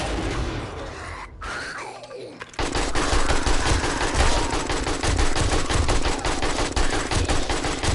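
Rapid AK rifle fire in the survival video game 7 Days to Die, a loud sustained burst of dense automatic shots after a short quieter lead-in.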